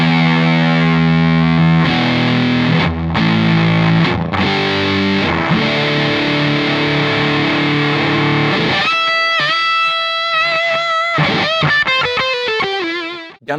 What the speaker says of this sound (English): today we are going to be checking out the ultra rare Gunn tone bender